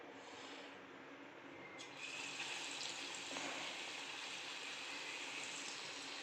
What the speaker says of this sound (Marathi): बघू शकता आपण पकोडे चांगले तेलात तळले जात आहेत.